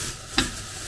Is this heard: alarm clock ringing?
no